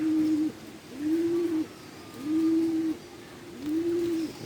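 A pigeon coos four times on a loft roof in slow, evenly spaced calls, close and clear against a quiet background.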